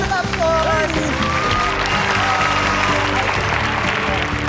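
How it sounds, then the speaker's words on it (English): Audience applause for a rescue kitten on a vet show, lively clapping throughout with voices and cheering mixed in, fairly loud and near. "Let's give them a big round of applause."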